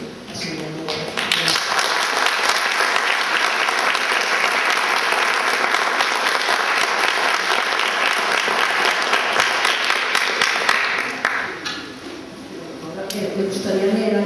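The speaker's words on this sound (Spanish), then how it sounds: "Por favor, brindemos un aplauso a su memoria." A crowd applauds steadily for over ten seconds, dense clapping that fades near the end before a brief pickup.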